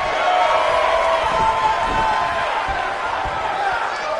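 Arena crowd noise from the WWE 2K19 wrestling video game is a steady, loud roar of cheering beneath a commentator's voice, with scattered thuds from the ring.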